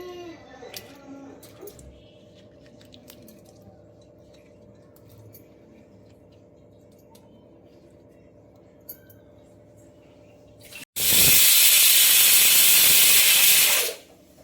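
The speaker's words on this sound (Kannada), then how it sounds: "ಈಗ ವಿಷಲ್ ಹೊಡಿತು." A pressure cooker cooking bisi bele bath vents a loud, sustained hiss of steam for about three seconds near the end, after a long stretch of quiet kitchen noise with faint clinks.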